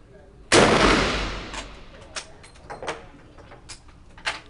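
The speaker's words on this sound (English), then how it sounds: "after he would fire each round, he would raise the breech block and eject that round" An old breech-loading Marine Corps rifle fires one loud, close shot with a long decaying boom, followed by several lighter metallic clicks and clacks of the breech being worked.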